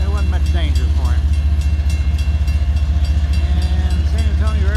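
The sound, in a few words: slow train passing a crossing in San Antonio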